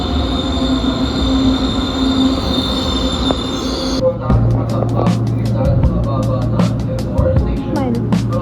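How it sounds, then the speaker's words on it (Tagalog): Riding inside an LRT light rail train, with a steady rumbling ride, high-pitched wheel squeal early on, then clacking track joints and a low droning hum. "sa LRT kami"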